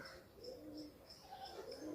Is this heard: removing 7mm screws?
no